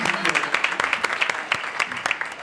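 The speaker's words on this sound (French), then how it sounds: "Applaudissez pour Mika" A room full of people claps for Mika at a public debate, the separate handclaps loud and easy to pick out, with a voice briefly heard alongside.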